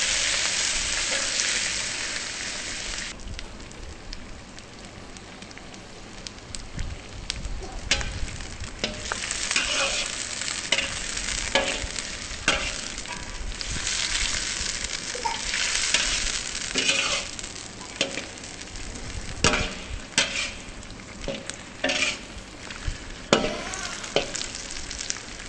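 Chopped tomato with garam masala and salt cooks down into a curry base in a pan, a steady sizzle broken by frequent scraping and clinking stirs from a spoon, close and fairly loud with no voices.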